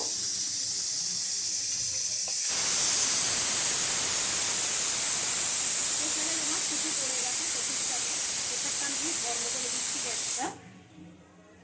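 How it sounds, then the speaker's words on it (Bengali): Hilsa fish heads rubbed with salt and turmeric hit hot oil and fry with a loud, continuous hiss and spatter lasting about eight seconds before cutting off abruptly. "এগুলো এবারে ভেজে নেব"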